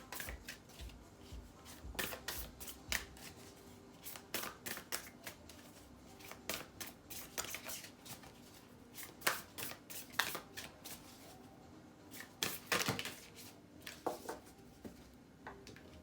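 A deck of oracle cards is shuffled by hand in a quiet room, giving repeated crisp riffles and soft slaps in irregular bursts, close and faint, with no talking.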